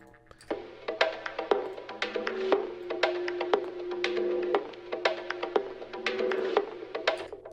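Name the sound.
bongo rhythm sample from an EP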